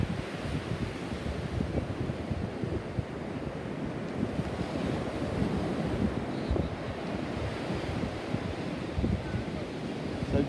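Waves and wind along a crowded beach near a pier, a constant loud rush of surf mixed with buffeting wind noise on the microphone, steady throughout with no clear break.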